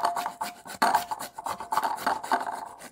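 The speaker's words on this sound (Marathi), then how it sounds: "हा भोपळा किसून घेऊया" Pumpkin rasped against a grater for paratha dough, a close, steady run of scratchy back-and-forth strokes with short pauses between them.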